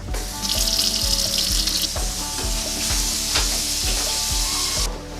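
Water gushes steadily from a tap, a loud continuous rush with a faint repeating mechanical thump underneath.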